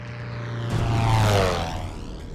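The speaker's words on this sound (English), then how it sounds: "and then the plane would just take off again." A small propeller plane takes off, its engine drone rising and swelling to a loud peak before easing slightly as it pulls away, with no voices.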